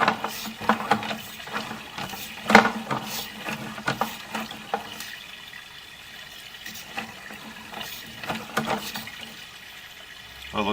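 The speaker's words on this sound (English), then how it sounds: "I want to run water and make sure the pipe is going to be clear enough" Water runs and trickles into a terracotta clay sewer pipe during an inspection, a faint, uneven gurgling with occasional splashes and clunks, fairly quiet and close.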